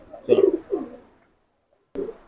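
A Kamakar pigeon coos close by in two low, throaty rolling phrases, then falls silent briefly before one more short coo.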